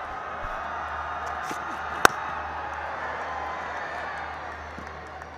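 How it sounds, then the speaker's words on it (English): A large evening crowd at a PSL 2023 cricket match between Peshawar Zalmi and Quetta Gladiators roars steadily as the batsman walks out, a broad sustained stadium wash with one sharp crack partway through. "Listen to this crowd."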